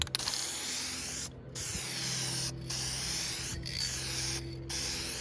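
Plastic adhesion promoter hisses from an aerosol can onto a car bumper in several long, even spray bursts broken by brief pauses, close and steady with no talking.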